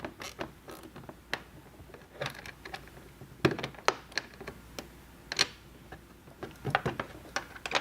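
A mud flap fastener on a 2024 Can-Am Maverick R fender is tightened with a tool, giving faint, irregular clicks and ratcheting ticks spread through the clip.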